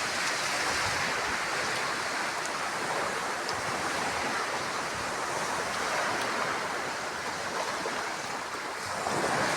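Steady roar of sea waves washing in continuously, with wind buffeting the microphone throughout; no voices.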